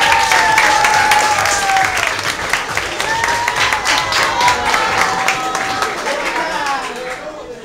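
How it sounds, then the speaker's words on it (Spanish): Audience applause and cheering at a children's cosplay contest fill the whole clip, steady and loud, with crowd voices and shouts mixed in before it tapers near the end. "Fuerte el aplauso para Brisa, por favor."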